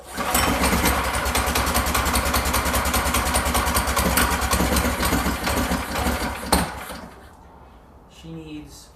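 A Predator 212cc engine on a Phatmoto bike runs near and loud with a steady rapid chugging for several seconds, then drops off sharply, leaving quieter mechanical sounds at the end.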